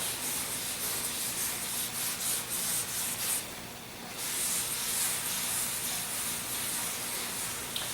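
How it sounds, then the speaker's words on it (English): Power sander working over a concrete tabletop to strip a paste wax layer, a loud steady close abrasive hiss with a brief dip midway as the tool lifts, then resumes, with no talking. "So the first thing we're doing is taking the wax layer off."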